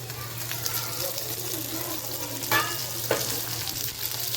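Gunda (glue berries) fry in oil in a pan over a low gas flame. A steady, moderate sizzle runs throughout, with a couple of brief clinks from stirring near the end.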